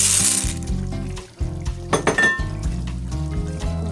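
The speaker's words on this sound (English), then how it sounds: "Once it comes to a boil, you want to add in your ziti pasta." Dry ziti pasta pours into a boiling skillet of beef and tomato sauce, giving a close rattle and clink of hard pieces hitting the pan over a bubbling, low-pitched simmer, with a brief lull midway.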